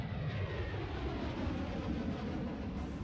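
An airplane engine roars in a broad, steady rumble, fairly distant and continuous for a few seconds.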